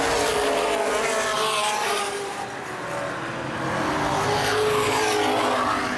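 Late model race cars roar around a speedway in a dense, continuous engine blare, swelling and fading slightly as the pack passes.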